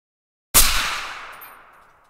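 A single loud rifle shot fired from a bipod breaks the silence, its sharp crack followed by a long decaying echo.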